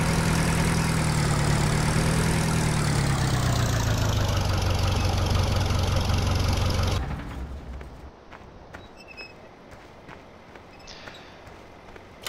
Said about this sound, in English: Get this tractor out of our way.